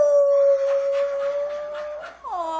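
A puppy howling in an old radio comedy show, one long, loud, steady high-pitched howl with faint background texture, ending in a falling whimpering bend.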